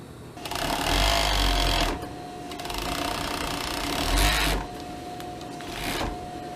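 An overlock sewing machine stitches and trims fabric in three bursts of fast, steady mechanical whirring with a constant high hum, close and clear, with brief quieter pauses between runs.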